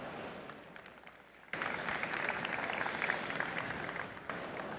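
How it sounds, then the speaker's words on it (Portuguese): An event audience applauds to welcome a panelist to the stage at a fintech and sustainability conference, with steady, dense clapping that swells louder after a quieter start and continues throughout. "Uma salva de palmas para o Bruno."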